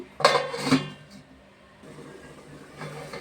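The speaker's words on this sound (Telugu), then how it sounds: "మూత పెడుతున్నాను." A metal lid goes onto a cooking pot with a couple of close clanks near the start, followed by quieter kitchen background.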